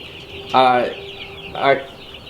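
Two short bursts of bird vocalizing, clucking calls from chickens, fairly close against a steady background hiss.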